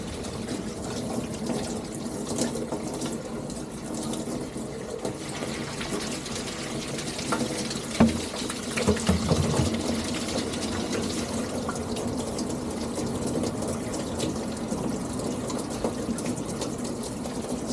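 Cold water gushes from a tap into two water bottles being filled at once at Black River Harbor in Michigan's Ottawa National Forest, a steady, fairly quiet rush with a brief burst of splashing partway through.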